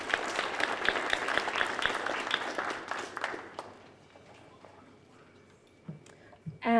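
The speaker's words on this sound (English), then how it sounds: "we'll give a big round of applause" Audience applause at the WBCA Write Now Awards 2022 ceremony, a dense spread of many hands clapping that holds steady for several seconds, then thins and fades out, leaving a quiet room with a few faint stray sounds.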